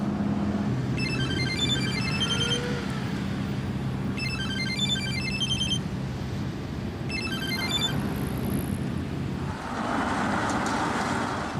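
A phone ringtone plays in repeated bursts of electronic tones over steady road or vehicle noise, with a higher trill near the end; no one speaks during the ringing.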